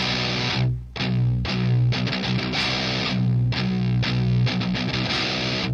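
Loud distorted electric guitar chords with a flattened sixth ring out and are restruck several times, each dense, fuzzy chord sustaining between brief breaks.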